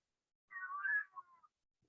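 A cat gives a single quiet, drawn-out meow with a falling tail, heard alone against near silence indoors.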